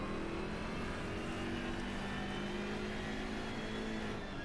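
BMW race car in a sim racing game at the Hungaroring, engine holding a steady loud drone after a short upshift in second gear, continuous and close with no talk.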